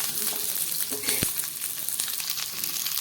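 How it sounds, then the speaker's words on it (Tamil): Small shallots and garlic cloves frying in hot oil for a chutney, a steady, close sizzle running throughout with occasional stirring clicks and no talk. "எண்ணெய் சூடானதுக்கப்புறம் இதில் சேர்த்துக்கலாம். பூண்டு வெங்காயம் நல்லா வதங்கட்டும்."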